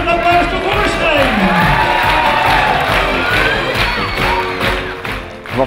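A crowd of children and adults at a school's golden jubilee celebration cheers, whoops and applauds loudly and continuously, with shouting voices rising and falling above the clapping.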